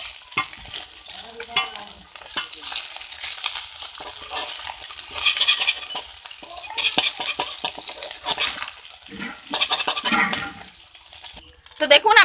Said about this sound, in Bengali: তো বাকি মাছগুলো দিয়ে দিয়েছি এগুলো আমি খুব ভালোভাবে ভেজে উঠিয়ে নেবো